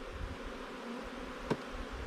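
Steady, soft buzzing from a queenless honeybee colony of old worker bees, a constant close hum with one brief louder click partway through.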